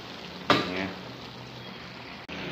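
Chicken broth for miki pancit boils in a pot at a barangay hall kitchen, giving a steady bubbling hiss after a brief clatter at the start.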